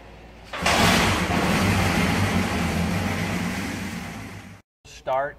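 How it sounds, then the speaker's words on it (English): A 1978 Kawasaki KZ650 motorcycle engine is kickstarted with the choke fully engaged and catches into a loud, steady idle rumble that fades a little before cutting out, after which a voice briefly speaks. "There are two ways you can start this bike, with the kickstart or an electric start. This is going to be with the kickstart."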